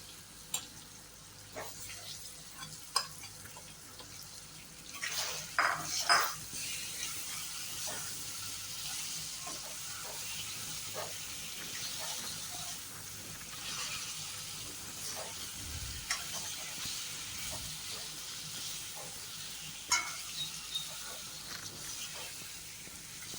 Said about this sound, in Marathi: यात सोडे घालून दोन तीन मिनटे चांगले परतून घेऊयात